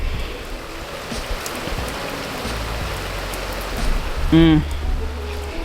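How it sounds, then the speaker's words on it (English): Dense, steady hiss of heavy rain pouring down, with a brief tonal sound rising out of the downpour near the end. "It is like pouring down, raining."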